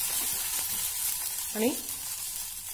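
Thalipeeth flatbread dough, made as a Navratri fasting dish, sizzles steadily on a hot griddle, a close, even hiss of frying that runs throughout, with a brief spoken word over it.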